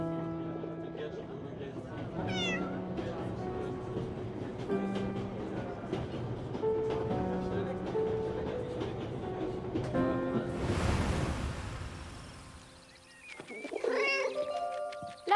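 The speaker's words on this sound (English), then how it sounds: "The German and his cat." Cat meowing in the video game 11-11 Memories Retold, belonging to a German man: several rising and falling meows with a rumbling, train-like ambience behind them and a noisy surge near the end.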